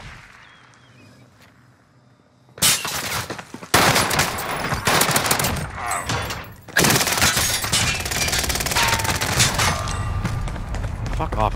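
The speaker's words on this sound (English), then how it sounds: "He's shooting me around the post." Enemy fire in a shooter video game: heavy automatic gunfire breaks out after a quiet start and keeps going in loud, sustained bursts with brief gaps between them, close and dominant, with shattering crackle mixed in.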